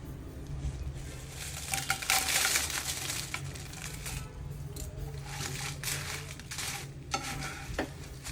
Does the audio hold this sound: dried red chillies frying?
yes